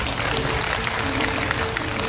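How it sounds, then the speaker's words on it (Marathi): A crowd at a devotional Ramayana recitation in Maharashtra claps loudly on cue, a dense continuous wash of clapping with no pause. "जोरदार टाळ्या वाजवा."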